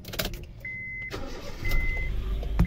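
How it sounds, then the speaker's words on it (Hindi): A car engine cranks over and catches, settling into a steady idle outdoors, with a few clicks and thumps of a door or handling around it and no talking. "गाड़ी स्टार्ट कर ली है।"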